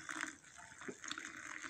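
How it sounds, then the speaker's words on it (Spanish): Boiling water poured for tea, a steady close splashing and trickling stream of liquid that runs continuously without pause. "Le voy a agregar aquí agua hirviendo."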